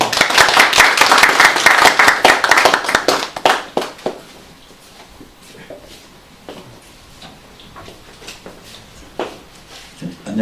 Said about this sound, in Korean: 우리 김진경 의장님 모실 때 힘찬 박수로 맞아주시기 바랍니다.